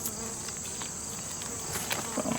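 Bees robbing leftover pollen from hive frames, a steady close insect buzz and hum with faint scattered crackles, no talking.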